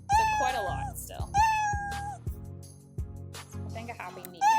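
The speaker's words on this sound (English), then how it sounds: "Now, when I pet my cat, he meows." Repeated cartoonish cat meows from a motion-sensing programming project, bright tonal calls in quick succession over a backing of clicks and music-like tones, played back as a sound effect.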